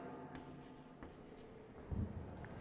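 Chalk or marker scraping across a board during a class 8 algebra lesson, a faint steady scratching of writing strokes at close range, with a brief louder knock near the end.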